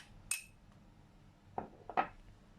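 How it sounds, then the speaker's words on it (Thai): Garlic is placed into a microwave-safe dish while cooking stir-fried tomatoes with egg, producing a few quiet, sharp clinks of cookware and utensils. The clinks come as one tap followed by two close together, over a near-silent room. "เราจะเริ่มจากนำกระเทียมนะคะ ใส่ภาชนะที่สามารถเข้าในไมโครเวฟได้ค่ะ"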